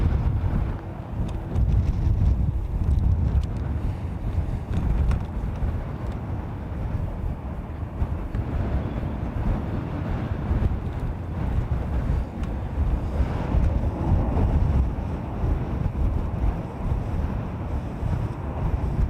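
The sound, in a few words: strong wind blowing at an airport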